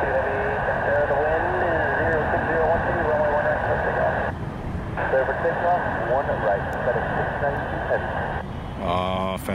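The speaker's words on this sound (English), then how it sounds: "Oh, Fennec 692 heavy's taking off." A heavy jet airliner takes off, its steady loud engine roar and whine filling the air throughout, with a person talking over it.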